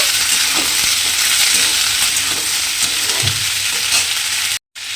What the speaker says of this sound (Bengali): মটরগুলো দিয়ে মটরটাও কিন্তু এভাবে তেলের মধ্যে একটু ভেজে নেব।